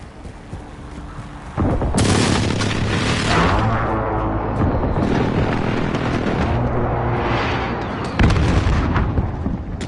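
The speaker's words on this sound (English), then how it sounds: "Enemy precision airstrike." Precision airstrike explosions in Call of Duty Modern Warfare: a sudden heavy boom, then a long rolling rumble of blasts, with another loud strike near the end.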